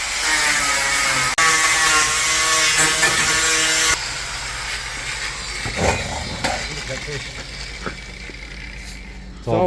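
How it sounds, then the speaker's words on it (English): A power tool cuts through body putty and thin tin on a customer's bumper, loud and harsh for about four seconds, then drops to quieter scraping and clattering work noises. "He's going to have to do some cutting of that body putty and that thin tin"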